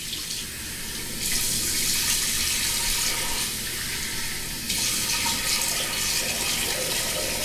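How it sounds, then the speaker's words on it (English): Running water splashes steadily from a tap into a sink as a face is rinsed after a wet razor shave. The close, continuous rush shifts slightly as hands move through the stream, and nobody speaks. "I'm going to rinse my face"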